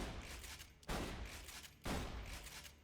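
Cleaner, a red-text Bandit shotgun in Borderlands 2, fires twice about a second apart, each blast a loud, sharp boom that trails into a rumbling decay, with low game ambience filling the gaps.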